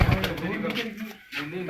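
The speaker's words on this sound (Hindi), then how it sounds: "तो अब ये आपके सामने ये परवाज़ी कबूतर जो जाल में छोड़ दिए गए हैं" Flying pigeons of a prized racing breed, released into a net enclosure, give soft cooing calls and rustle close by over steady background noise.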